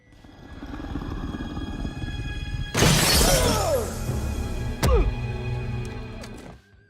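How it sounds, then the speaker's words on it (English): Safety glass shatters from a bare-handed blow in a scene from The Fifth Element, a loud burst of breaking with scattered fragments, then a second sharp smash a couple of seconds later over a steady low background. "Leeloo smashes the glass and escapes."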